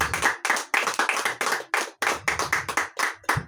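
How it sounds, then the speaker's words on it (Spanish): Firm, rhythmic clapping from a church congregation praising the King of Kings, sharp loud bursts beating in quick unison with brief gaps, close and clear without speech. "Denle un fuerte aplauso al Rey de Reyes y Señor de Señores"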